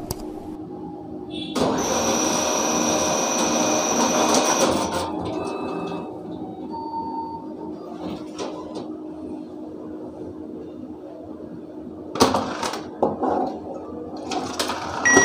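An Axis Bank ATM dispenses a ₹500 withdrawal: a loud, steady mechanical whir runs for about three seconds, followed by quieter clicks and beeps and then more rattling machine movement near the end.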